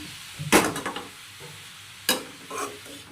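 A spoon scrapes and stirs carrots frying in a pan, with two sharp clattering bursts followed by softer scraping strokes, close and fairly loud over a low background sizzle.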